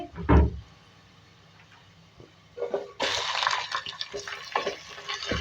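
Minced meat frying with browned onions and bay leaf in a pan, stirred with a utensil: a sharp clatter at the start, then quiet, then a louder, steady sizzle with scraping stirs in the second half.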